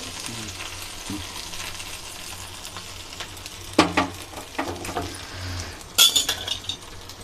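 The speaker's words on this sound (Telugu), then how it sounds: "ఇప్పుడు దీంట్లో పోపు వేసుకుందామండి" Hot tempering is stirred into a pot of katte pongali, giving a soft sizzle with a few sharp scrapes and clinks of a spoon against the vessel, close by and with no talking.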